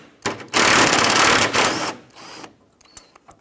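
A power tool whirs in a loud burst for over a second as a 10mm bolt is removed from a grille mounting bracket on a 2009-2014 Ford F-150, followed by faint clicks and rattles.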